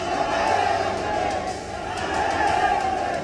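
Crowd carrying a martyred CRPF soldier's body in a funeral procession in Bihar, chanting Zindabad slogans, heard as a loud massed roar of voices that swells and falls in waves.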